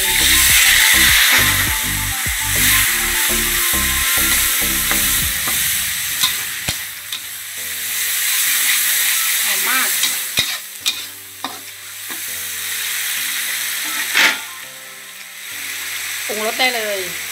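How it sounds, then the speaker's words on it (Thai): Thai red curry paste frying in fresh oil with previously fried mackerel, a loud close sizzle and rhythmic spatula scraping against the wok, with background music playing along. "ใส่น้ำมันลงไปเลยพริกแกงลงเลย"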